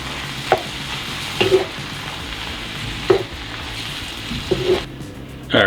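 Corn frying in a pan for vegan mac and cheese, a steady sizzle broken by several short scraping stirs spaced a second or two apart, close and fairly quiet with no talking.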